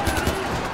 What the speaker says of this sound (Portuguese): tô tomando tiro aqui que é uma beleza